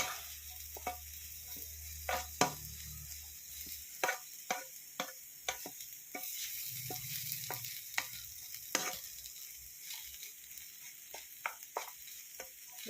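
A spoon stirs an oats biryani mixture with lemon in a pan, making repeated sharp scraping clicks and taps in an irregular rhythm, close by over a faint sizzle, with no speech.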